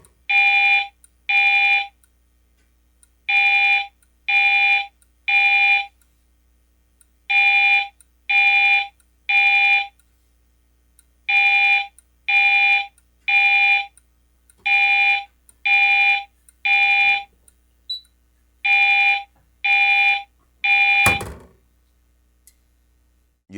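A building fire alarm system sounding during a test: loud, close electronic horn blasts in repeated groups of three with short pauses, a steady temporal pattern, ending with a brief thump.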